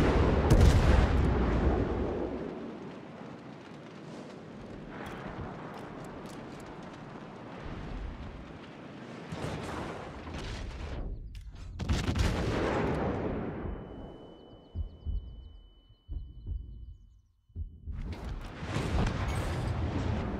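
Heavy naval guns boom and rumble in a video game ship battle, with loud repeated blasts, long rolling echoes, brief quiet gaps and a few later salvos.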